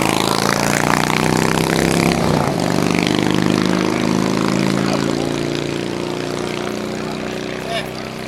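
A Nitro Ultimate fuel altered drag racing car runs at a drag strip, its engine a loud, sustained droning roar with shifting pitch, while an announcer talks over it.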